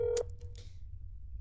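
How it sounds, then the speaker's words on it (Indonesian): A telephone in the horror video game That's Not My Neighbor gives a brief electronic tone followed by a few soft clicks, heard over a low, steady background hum. "Telepon."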